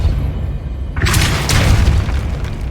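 A spell cast in Hogwarts Legacy lands as a loud, close booming blast. Rumbling game noise comes first, then a bright, sustained burst that crackles and fades.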